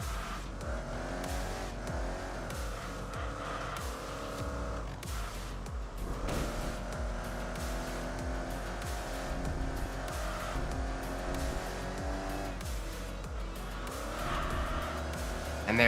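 A Honda Accord races through winding turns in the video game Enthusia Professional Racing, with its engine droning continuously as revs rise and fall, and tires squealing through the corners.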